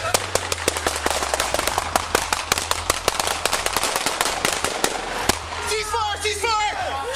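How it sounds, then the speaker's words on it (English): Rapid gunshots ring out in a volley during a police standoff in Arkansas, sharp and repeated over several seconds, with voices and a siren-like wail partly under and after them. "Shots fired."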